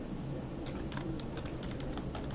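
Quick, light keystrokes on a computer keyboard, a short run of irregular clicks close up and alone against a faint background hiss.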